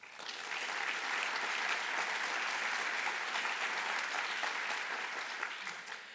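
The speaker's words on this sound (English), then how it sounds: "let's give a round of applause to yourselves for that and everybody that's watching us on live stream" An audience at a Stanford Latino Entrepreneurship Initiative event gives a sustained round of applause, dense and even, rising quickly and holding steady throughout.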